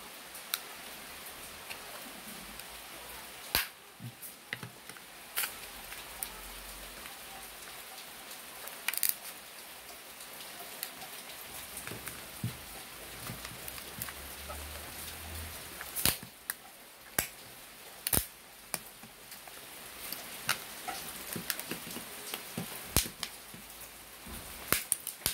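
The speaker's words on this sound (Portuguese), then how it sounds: "já começou a chover aqui." Scattered raindrops begin falling outdoors, with irregular sharp ticks and taps on surfaces over a faint steady background hiss, sparse at first and growing slightly busier.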